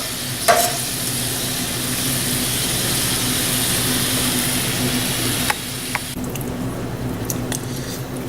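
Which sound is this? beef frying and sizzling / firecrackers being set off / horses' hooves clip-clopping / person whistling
beef frying and sizzling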